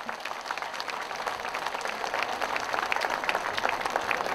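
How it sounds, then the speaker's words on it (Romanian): A crowd applauds at the official opening of a town festival, a dense, even patter of many hands clapping continuously at moderate loudness. "Haideți să-i aplaudăm!"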